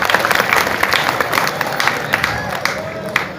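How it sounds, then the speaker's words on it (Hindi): A seated audience at a Bageshwar Dham Sarkar religious gathering breaks into steady applause, a dense wash of clapping with scattered sharper claps and some crowd voices mixed in. "उनको ताली बजाकर धन्यवाद।"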